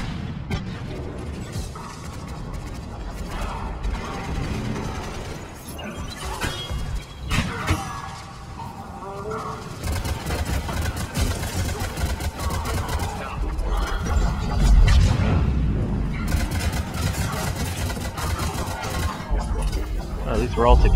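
A frag grenade goes off during a Mass Effect 3 multiplayer match: heavy booming bursts and crashing debris sound amid constant gunfire and mechanical battle noise, with voices talking throughout.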